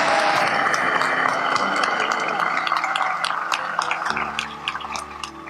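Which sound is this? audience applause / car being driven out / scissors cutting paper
audience applause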